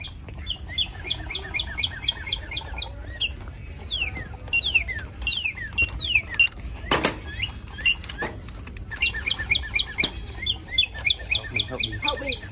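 A caged bird chirps in a video game set in a store, repeating quick, bright high chirps in bursts, near and clear, with a few thuds and rustles in between and no talk.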